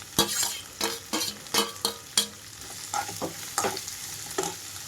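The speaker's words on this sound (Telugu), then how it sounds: "క్యాబేజీ మొత్తం వేసి కలుపుకుంటున్నాను" Shredded cabbage stir-fried and tossed in a pan over a tempering, with a steady sizzle broken by repeated scraping strokes of a spatula, close and clear with no talking.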